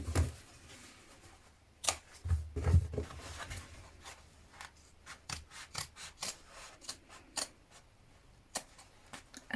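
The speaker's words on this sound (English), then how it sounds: "Now with sharp scissors, we're going to cut along this central line that we created." Sharp scissors snip along a central line through bag fabric, a series of close, crisp cutting clicks and rasps at an uneven pace, with soft handling rustle between cuts.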